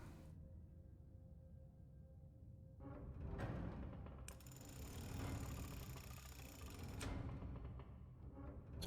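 A switch mechanism operates in the puzzle game The Room Three, with a low mechanical rumble and rattle that grows and shifts over several seconds and fades at the end, with no speech.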